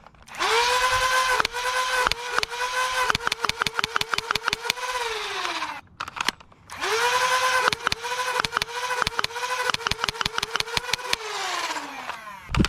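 Dart Zone Max Nitroshot Venom Pro foam dart blaster firing full auto, a loud flywheel whine spinning up and holding under rapid repeated dart shots in two long bursts, each winding down after the trigger is released.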